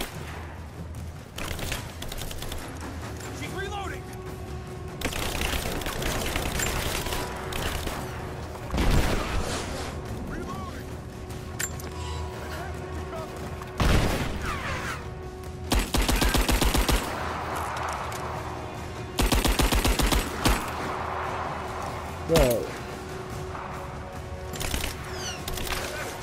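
Rapid bursts of gunfire from Rise of the Tomb Raider, loud automatic volleys broken by single heavy shots and thuds over a steady game ambience, with a pause or two between bursts.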